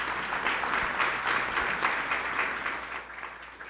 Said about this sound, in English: And by the way, that 20, yeah, you should applaud that.